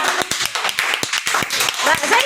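A group of children in a studio claps at an uneven rhythm, the light, crisp hand claps coming steadily under a noisy wash of chatter.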